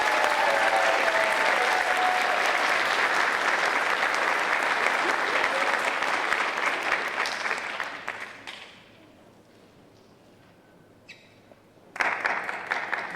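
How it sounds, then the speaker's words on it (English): Audience applause for pageant contestants in a teen category, full sustained clapping that gradually thins and fades to near quiet, then a fresh burst of clapping returns at the end. "We can give them one more round of applause, can't we?"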